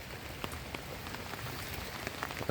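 Heavy rain falling steadily on a bottle gourd field, a faint continuous hiss scattered with small drop ticks and no voices.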